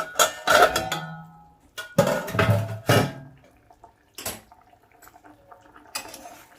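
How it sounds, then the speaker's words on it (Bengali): A metal lid is lifted off a cooking pot of Bengali rohu fish curry with potatoes and drumsticks, giving several close clanks and knocks of metal on metal with short gaps between. "ঢাকনাটা আমি খুলে নিচ্ছি।"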